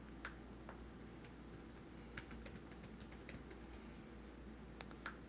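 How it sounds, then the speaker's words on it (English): Typing on a computer keyboard, a few scattered faint key clicks over a steady low hum with no talk, a search term being entered in a find box. "I'm just going to use my Control F trick and just type in materials list"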